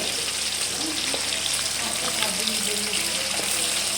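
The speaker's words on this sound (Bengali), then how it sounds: "আমরা এখন এখানে ইলিশ মাছ ভাজছি" Continuous sizzling and crackling of hilsa fish frying in oil in a pan, steady and close, with faint voices in the background.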